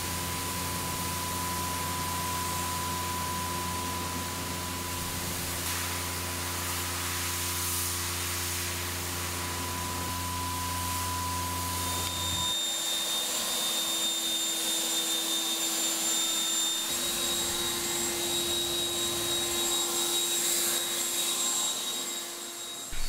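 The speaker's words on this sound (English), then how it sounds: "Now we'll just rinse it off and see what it looks like dry." Pressure-washer water spray rinsing a smooth-sided aluminum East trailer outdoors, a steady loud hissing rush with a motor hum that shifts in tone midway, continuous throughout with no talking.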